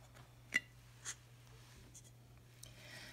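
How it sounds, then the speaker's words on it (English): A pencil scratches softly on paper while tracing around the rim of a cup, faint and close, with light strokes and a few brief taps over a low steady hum. "with a pencil you're going to draw around your cup like this"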